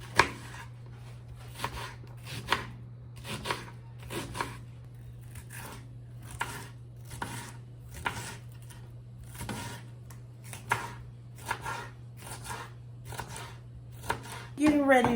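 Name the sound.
chopping onions and bell pepper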